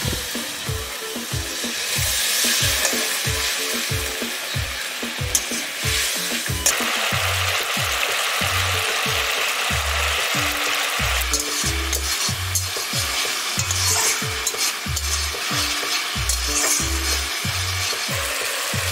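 Ginger-garlic paste and spices sizzling in a pan with a splash of water for an egg curry, steady loud frying hiss with rhythmic stirring scrapes throughout, no talking.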